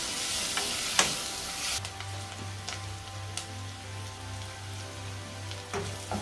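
Onions sizzle and fry steadily in a pan, browning at the start of a Bengali hilsa fish and butternut squash curry, with a few stirring clicks and a low hum throughout, no talking.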